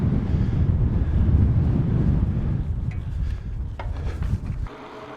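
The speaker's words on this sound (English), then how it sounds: "I don't know if the wind is supposed to die down or pick up" Strong wind blows outdoors near a lake, buffeting the microphone with a loud, steady low rumble that cuts away near the end.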